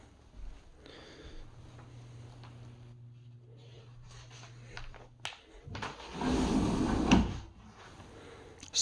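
A soft-close barn style sliding door in a modular home bedroom opens and closes, giving a low rolling rumble, a sharp click, then a louder sliding swell that settles gently, with faint room noise and no speech.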